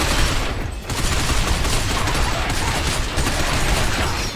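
Dense, loud gunfire in the video game Binary Domain, sustained rapid shots blending into a continuous roar with a brief dip near the start, no voices.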